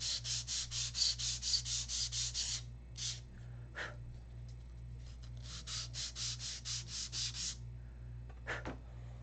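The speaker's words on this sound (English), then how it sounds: "Gonna have to sand it a little." Hand sanding of a model control-line stunt plane part, quick rhythmic rasping strokes in bursts, close and quiet, with a pause in the middle before another run of strokes.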